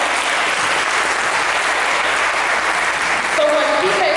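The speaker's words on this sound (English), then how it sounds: "Let's give them a round of applause." Thick, steady applause from a graduation audience fills the space at full volume, and a voice begins speaking over it near the end.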